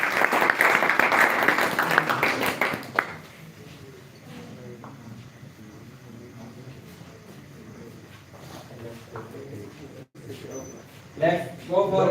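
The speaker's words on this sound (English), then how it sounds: "So ladies and gentlemen, please clap." A crowd claps loudly at a celebration for the 146th birthday of Quaid Muhammad Ali Jinnah, with a dense burst of applause for about three seconds before it fades into quieter room noise and murmuring, then a brief swell near the end.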